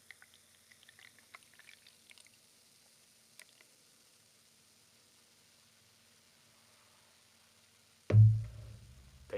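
Floetzinger Zwickl beer is poured into a glass: a near-silent stretch with a few faint clicks and taps, then a loud, close, foamy pour that bursts in near the end and keeps running.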